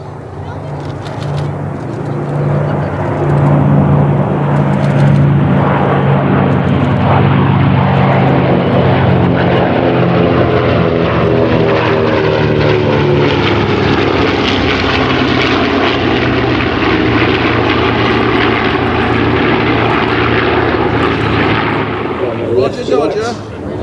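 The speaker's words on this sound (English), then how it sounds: "Corsair B-25. Running in from your right," A B-25 propeller bomber runs in past a crowd at a Red Bull Flying Bulls air display, its loud piston-engine drone sustained throughout and shifting in pitch as it passes close by.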